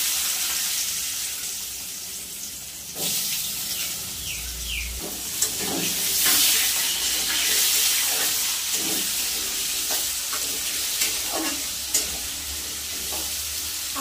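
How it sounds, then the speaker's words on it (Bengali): Diced potatoes frying in a pan for a Bengali chana dal dish crackle and sizzle up close, with stirring scrapes and a brief burst of running water partway through; no voices. "আলুটা হালকা করে একটু ভেজে নেব।"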